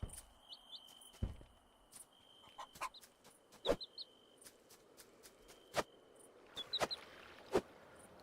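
Chickens cluck in a farming video game, with sparse clucks and small chirps spread across the scene, mixed with soft footstep-like taps and sharp clicks against a quiet background.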